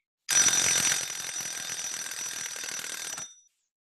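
A home timer alarm goes off in a room, a bright electronic beeping ring that starts abruptly, sounds loudest at first, then continues steadily for about three seconds before stopping.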